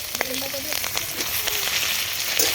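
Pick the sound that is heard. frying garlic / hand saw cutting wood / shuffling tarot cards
frying garlic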